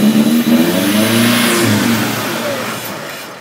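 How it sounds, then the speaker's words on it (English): A Toyota 3RZ-FE engine with a TRD supercharger revs hard and loud near the listener, the pitch climbing then falling away as it settles toward a rough idle; no one speaks. "Give it a rev."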